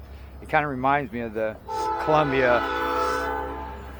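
A passing train sounds a long, loud horn with sustained harmonic blasts while someone talks over the start of it.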